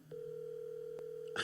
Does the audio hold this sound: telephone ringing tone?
yes